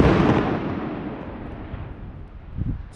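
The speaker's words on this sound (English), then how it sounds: "there are already quite a few fireworks and it looks so cool to see them at the horizon from up here" Distant New Year's Eve fireworks heard from a rooftop: a broad booming rumble that fades, then a softer pop near the end, with no talk.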